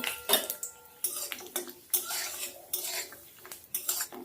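Kalai dal bori, lentil dumplings, going into hot oil in a pan, heard as a run of clinks and scrapes of a utensil against the pan at close range, with only a faint frying hiss.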